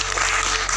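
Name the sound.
applause for Noorca M. Massardi's 72nd birthday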